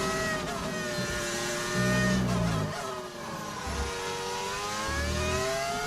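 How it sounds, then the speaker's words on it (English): Formula 1 car engines in the F1 25 racing game whine at high pitch with rising and falling tones, joined by a few short low thumps, heard steadily at moderate loudness with no talking. "Do engines sound like TIE fighters? They do."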